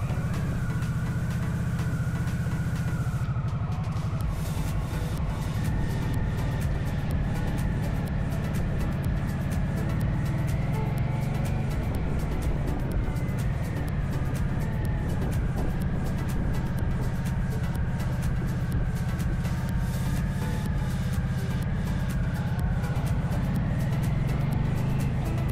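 Motorcycle engine droning steadily while riding, a loud continuous low rumble with wind noise mixed in throughout, no talk over it.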